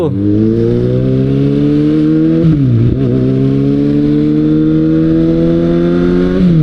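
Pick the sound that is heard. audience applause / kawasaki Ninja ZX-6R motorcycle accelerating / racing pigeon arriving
kawasaki Ninja ZX-6R motorcycle accelerating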